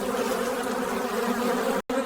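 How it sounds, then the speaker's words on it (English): A dense swarm of angry bees drones loudly and steadily, a thick buzzing hum that cuts out abruptly for an instant near the end. "a tempest of enraged bees trailing her like a vengeful winged army"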